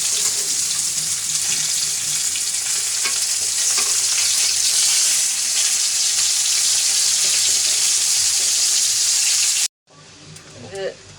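Oil and cumin seeds sizzling loudly in a hot pan while cooking a rui fish curry, a steady continuous frying hiss that cuts off abruptly near the end, followed by brief clatter.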